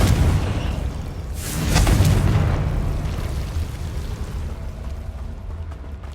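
A Bombarda blasting spell in Hogwarts Legacy, a loud booming explosion that swells at its peak and then trails off into a long rumbling decay.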